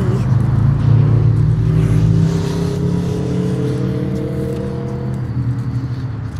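Road traffic with a car passing close by, a steady loud engine and tire roar that swells and then slowly fades, with no voices over it.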